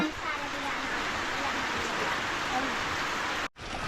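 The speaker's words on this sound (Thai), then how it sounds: "มื้อนี้ฝนตกอีกพี่น้องเอ้ย" Steady rain falls around a rural house in Laos or Thailand, a dense, even hiss of downpour that fills the space before cutting off abruptly near the end.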